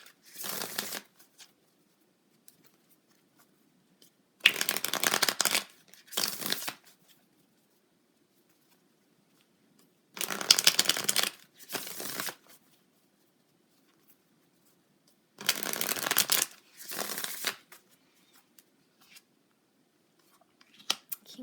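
Tarot cards are shuffled in three separate bursts of crisp riffling and flicking, each a couple of seconds long, close and clear with quiet pauses between.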